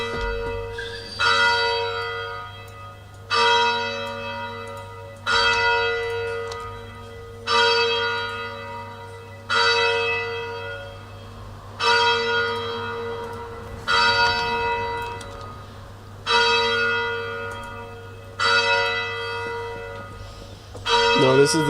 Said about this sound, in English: No, this is the special bells. It's the 7 PM, it's the dinner bells